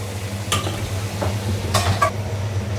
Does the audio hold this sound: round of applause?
no